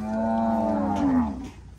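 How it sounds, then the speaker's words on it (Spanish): A cow gives one long, loud, close moo, low and steady before rising slightly near the end, with no talk over it. "¡Vaca!"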